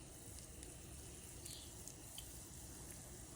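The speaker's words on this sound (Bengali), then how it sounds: "আর এটা লাল লাল করে ভাজতে হবে।" A homemade snack deep-frying in very hot oil until reddish-brown, giving a steady, close, dense sizzle with small scattered crackles and pops, and no voices.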